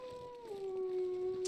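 A wolf in the survival video game The Long Dark lets out a long, sustained howl that bends downward and then holds steady, fairly close, over a low windy background.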